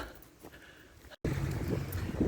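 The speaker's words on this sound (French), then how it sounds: "il y a un petit peu de vent quand même" Wind blowing outdoors near Malaucène, in the countryside around Mont Ventoux, a low, fluctuating rush buffeting the microphone that drops out briefly and returns louder and gustier.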